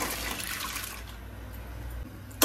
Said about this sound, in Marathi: आता मी ह्याच्यात डाळ घालते।